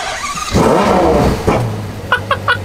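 A Ferrari GTC4 Lusso's V12 engine revs hard and loud up close, a rising roar that drops away into idle, followed by three short sharp blips of the throttle.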